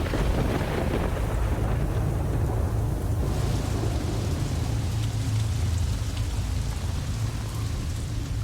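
Heavy, steady rainfall pours down without a break in a desert setting, a dense continuous hiss of drops striking surfaces with a low rumble underneath, like distant thunder, and no voices.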